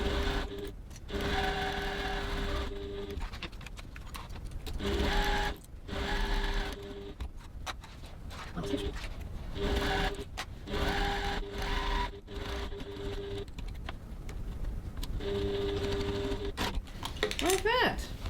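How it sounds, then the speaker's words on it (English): A sewing machine stitches a 3/8 inch pocket seam on a faux leather bag, running in bursts of steady whirring with short pauses between them. "now I'm going to stitch my pocket seam, 3/8 of an inch, 1 centimetre seam allowance"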